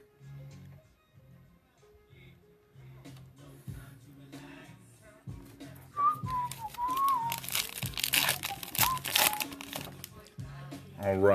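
Foil trading card packs from a 2021 Topps Allen & Ginter hobby box are torn open, crinkling and crumpling in repeated bursts that grow louder toward the end, with intermittent whistled notes and no clear speech.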